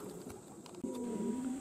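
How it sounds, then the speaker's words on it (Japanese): A racing pigeon coos softly in a low, steady tone against a faint outdoor background, with no talking. "70分後に遠征に行っていた鳩が戻ってきました"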